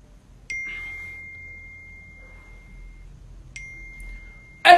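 A mobile phone notification sounds twice, each a clear pure electronic tone that rings steadily and fades in a quiet room, with a louder rustle at the very end.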